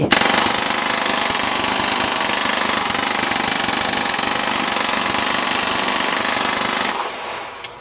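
One long, continuous burst of rapid automatic gunfire roars steadily for about seven seconds, loud and close, then cuts off abruptly into a fading echo.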